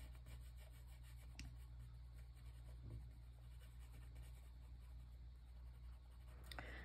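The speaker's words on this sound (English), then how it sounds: "So using my polychromo pencil, I'm going to just simply add a piece of ground for him." A polychromo colored pencil rubs across paper in soft, scratchy strokes, very quiet and close, with a few faint taps and no talking.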